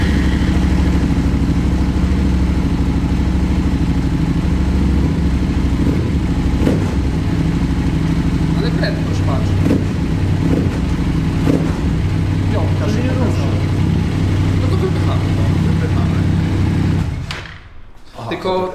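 A Yamaha motorcycle engine runs at a steady idle with a constant low rumble, plus occasional clatter and mechanical ticks, before cutting off abruptly near the end.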